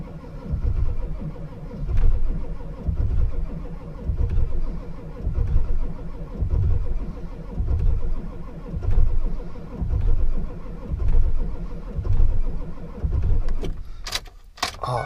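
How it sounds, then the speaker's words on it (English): A Ford 7.3 diesel engine cranks slowly on a very cold, rough start. The starter churns in a steady rhythmic labor, about one heavy pulse per second, for a long stretch without catching, then breaks off with some clatter at the end. "It just needs like one or two more cylinders to fire and it'll start."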